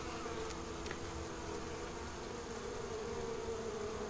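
Honeybees fanning inside an open beehive make a steady, dense buzzing hum, close and continuous throughout with no speech.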